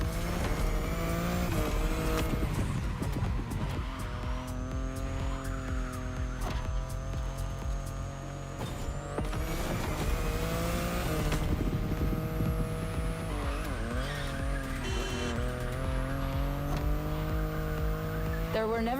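BMW i8 hybrid sports car driven in The Crew Motorfest, its engine holding a steady loud drone with pitch shifts from gear changes and revving, occasional tire squeal, and background game music throughout.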